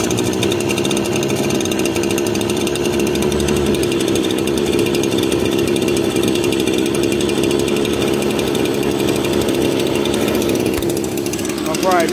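An old small engine, its fuel tank recently cleaned out, starts up and runs steadily at a loud, continuous, rough chugging idle throughout, with a voice briefly heard.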